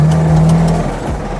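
A car engine labors under load while a drive wheel spins and slips during a handbrake test imitating differential locks, a steady loud drone with a falling pitch, close and continuous with no talk.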